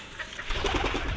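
Pigeons coo softly in a home pigeon house, a few low, rounded murmurs rolling one after another beneath a faint airy hiss.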